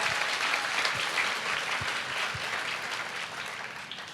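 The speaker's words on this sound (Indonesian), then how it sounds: "Jangan cuma amin, tepuk tangannya yang keras." A church congregation breaks into loud, sustained applause, a dense steady clatter of many hands that holds strong throughout and tapers only slightly toward the end.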